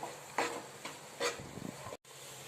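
A spoon scrapes and stirs a saffron-colored sweet mixture with milk powder in a nonstick pan, making a few soft, close scraping strokes and light sizzling before a brief dropout.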